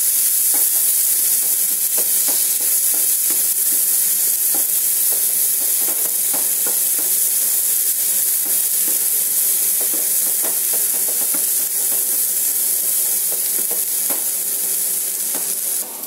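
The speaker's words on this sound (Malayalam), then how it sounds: "നമുക്കിനി അരിഞ്ഞു വെച്ചിരിക്കുന്ന സവാള ഇട്ട് കൊടുക്കാം. എന്നിട്ട് നന്നായി ഇളക്കി വഴറ്റാം." Chopped onions sauté in a pan for egg macaroni, a loud, steady hiss and sizzle with frequent light scrapes and taps of a spoon stirring throughout, no voices.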